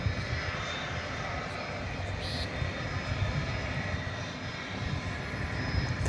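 British Airways jet airliner at Dallas Fort Worth airport, a moderate, steady jet engine rumble with a faint high whine, somewhat distant and continuous.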